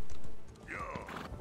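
A horse in the Elder Scrolls Online video game gives a short, clear neigh over the thud of hooves, close and alone for about a second.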